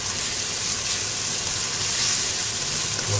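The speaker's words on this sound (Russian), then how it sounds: "Вот так, обжариваем лучок." Onion and garlic frying in a pan, a dense even crackling sizzle heard up close and fairly loud, steady for a few seconds without any talk.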